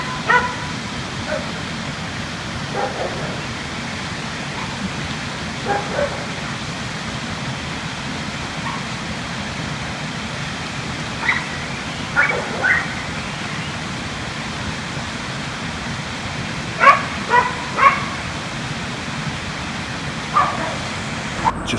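Dogs bark in a residential area of Sofia: scattered, fairly distant barks and yips come in short bursts over a steady outdoor background hiss, with a louder cluster of barks late on.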